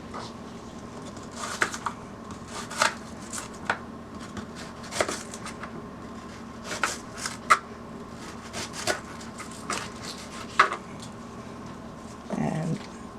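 A knife cuts a red onion into strips on a board, producing a series of soft, irregular chopping taps spaced a second or so apart over quiet background.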